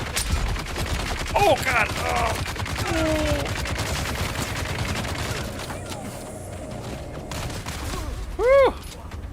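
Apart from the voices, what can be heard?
heavy machine gun fire in the video game Dune: Awakening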